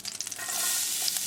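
Garlic added to a hot fry pan of olive oil and melted butter, giving a brief steady sizzle with light stirring scrapes. The sound is close and fairly soft, with no talking.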